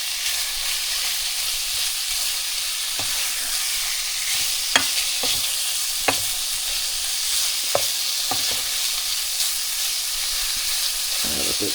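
Chicken fried rice frying in sesame oil, a loud steady sizzle close up with several sharp utensil scrapes and taps as it is stirred, no voices.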